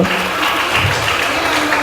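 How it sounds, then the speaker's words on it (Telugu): A church congregation at a women's special worship service claps loudly and continuously, a dense, even wash of applause with no breaks. "క్లాప్స్ కొట్టండి మా క్లాప్స్."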